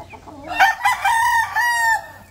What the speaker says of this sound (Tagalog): Kasi ito yung ating tandang.